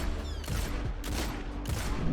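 Rapid gunfire bursts from the Sturm, an exotic 120 RPM hand cannon in Destiny, several loud heavy shots in quick succession with no voices.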